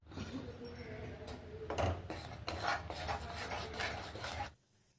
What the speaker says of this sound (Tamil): இப்போ இந்த ராகி மாவை இதில் கொட்டி நல்லா கரைச்சிக்கலாம்.